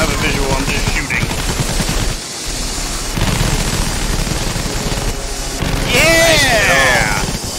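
Gunfire in the Battlefield video game, loud rapid bursts and shots mixed with game effects, with players talking over the action.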